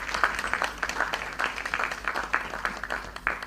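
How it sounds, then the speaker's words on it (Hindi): Audience applause at an awards ceremony in India honouring women for outstanding work in society and journalism, a steady patter of many hands clapping at moderate distance, with faint room hum beneath. "तो एक बार फिर तालियां"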